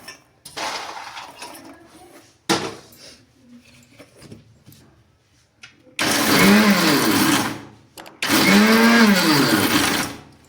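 A mixer grinder whirs in short pulses coarsely grinding roasted fox nuts: two brief bursts early, then two longer loud runs with rattling contents, separated by pauses.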